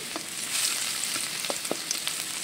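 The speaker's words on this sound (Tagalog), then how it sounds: "maglagay tayo ng mantika at igisa natin ang bawang" Garlic sautés in oil in a pan for fried rice, a continuous close sizzle broken by a few light taps and stirring clicks, with no voices.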